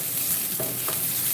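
A pork and vegetable stir-fry sizzles loudly in a pan, a dense close hiss with a couple of soft stirring scrapes, lasting just over a second with no voices.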